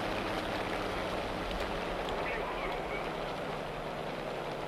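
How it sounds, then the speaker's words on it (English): Aircraft engine in the War Thunder video game, a steady broadband drone with a low rumble running unbroken at moderate level throughout, with no speech over it. "Now watch me kill my engine."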